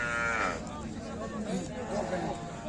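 A cow moos loudly at a busy cattle market, a single drawn-out call near the start, with people chattering in the background.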